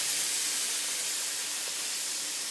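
Meat searing in a hot pan just after being flipped, giving a steady, close sizzling hiss that holds at an even level throughout without pause.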